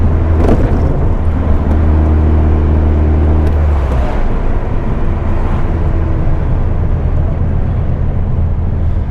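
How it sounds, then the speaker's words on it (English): Air-cooled engine of a 1973 VW Super Beetle drones steadily from inside the car while driving, a loud, low, continuous hum that shifts pitch slightly about midway. "The engine's running solid."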